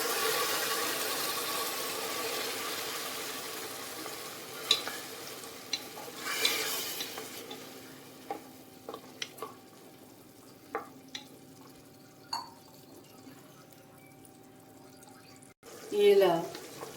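Tamarind juice is poured into masala frying in a pan for bisi bele bath, starting with a loud sizzling hiss that fades into quieter simmering, broken by spoon scrapes and knocks and a final clatter.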